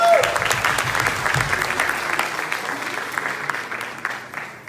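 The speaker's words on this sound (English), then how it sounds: "But yes, go ahead, clap for that" Church congregation clapping steadily at a Sunday service, a dense patter of hands fairly close that gradually thins and softens, with a brief voice at the start.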